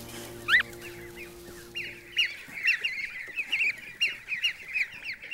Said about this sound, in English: She's a goose now.